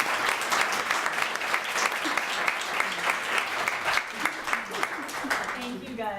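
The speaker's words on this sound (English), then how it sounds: "should we give a nice round of applause?" An audience at a talk gives a sustained, fairly loud round of applause with dense, steady clapping throughout and some crowd noise mixed in.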